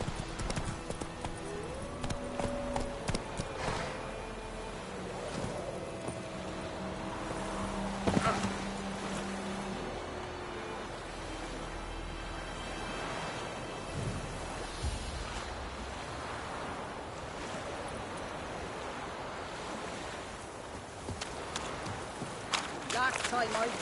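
A horse gallops in a video game, a steady drumming of hoofbeats under music and ambient game sound, with a person speaking now and then.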